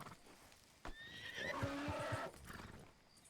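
An ornery horse in a video game gives a loud whinny with rising and falling pitch, accompanied by clip-clop hoofbeats and a thud, heard close over low background noise.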